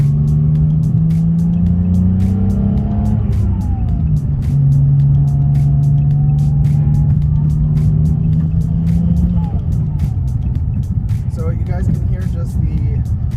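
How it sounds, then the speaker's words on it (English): A BMW 335i engine holds a steady, droning hum at 3,000 RPM, with a brief dip in pitch partway through and a continuous loud rumble throughout. "You guys can hopefully hear the actual sounds of this motor."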